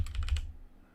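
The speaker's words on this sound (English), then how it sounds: "I'm just typing in Dragon Ball and seeing what happens." A quick burst of typing on a computer keyboard: five or six rapid, close key clicks, then the clatter stops.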